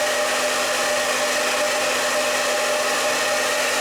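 A hair dryer with two fan speeds and three heat settings runs at its highest fan speed, a loud, steady, close whooshing roar that holds constant throughout.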